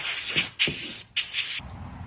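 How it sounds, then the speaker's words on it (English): Three loud, close bursts of compressed air spraying sawdust off a bandsaw wheel, each about half a second long with brief gaps, followed by a quieter hiss. "This is a good time to go ahead and spray off all this sawdust as well."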